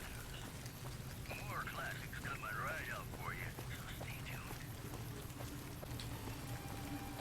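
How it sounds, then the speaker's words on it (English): Rain from a weather mod in Fallout: New Vegas falls in a steady, soft hiss across the whole stretch, quiet and continuous, with a faint voice murmuring over it in the middle. "This weather mod that I have installed, I really like it, but I feel like it rains too much for the Mojave."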